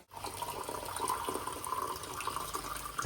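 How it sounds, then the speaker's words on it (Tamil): Plain water is poured into rice for a blue butterfly-pea-flower biryani, a steady close splashing and gurgling pour with no voices over it. "இந்த தண்ணியை அளந்துட்டு மீதி வந்து பாத்தீங்கன்னா நம்ம பச்சை தண்ணி ஊத்திக்கலாம்"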